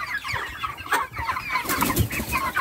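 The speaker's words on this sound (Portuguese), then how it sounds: "Ó, ali é outro lote de frango, né?" A flock of semi-free-range farm chickens, including naked-neck caipira and white broiler birds, clucking in a busy, overlapping chorus, with soft rustling and an occasional nearby wing flutter.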